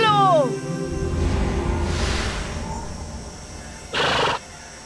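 A horse in an animated cartoon lets out a loud, descending whinny at the start. Rumbling ambience and a short burst of noise follow.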